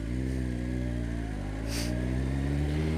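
A Kawasaki ZX14 motorcycle engine hums steadily while being ridden, a close, continuous droning tone that dips slightly in pitch midway before settling again, with a brief hiss of wind.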